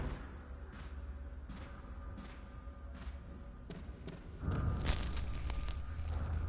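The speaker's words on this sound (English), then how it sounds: "That's the sound of there's a ghost nearby." Fatal Frame IV horror game ghost-nearby warning: a soft, rhythmic pulsing thump that repeats steadily like a heartbeat, then swells into a brighter, louder shimmering tone.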